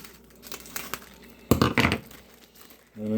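A punctured plastic taco shell package is peeled open, giving close crinkling and crackling bursts with one louder tearing rustle in the middle.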